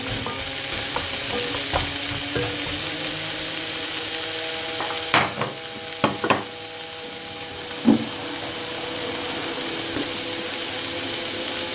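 Sliced onions and carrots sizzle and fry steadily in plenty of olive oil in a pot, with a few clinks and stirring knocks of a utensil against the pan.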